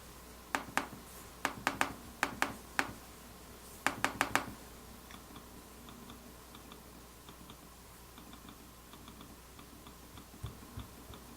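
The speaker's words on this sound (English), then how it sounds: "you still get a clicking sound, but it's a little different than the traditional trackpad" A MacBook Pro 2015 Force Touch trackpad clicking, with sharp isolated clicks in small bursts near the microphone, then fainter scattered ticks in a quiet room.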